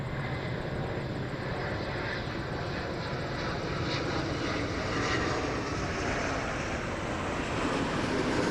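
An Airbus A330-200 airliner lands on runway 24 right at Montreal airport, its engines a loud continuous roar that holds steady and swells slightly toward the end.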